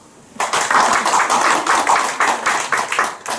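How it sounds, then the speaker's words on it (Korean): A church congregation claps steadily and loudly for a few seconds during a Sunday sermon, a brisk run of hand claps starting abruptly after a moment of quiet. "날래 박수 치라."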